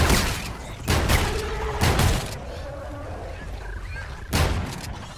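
A shotgun fires in a horror video game featuring a toxic fish-crab monster, several loud booming blasts spaced about a second apart amid creature noise and game ambience.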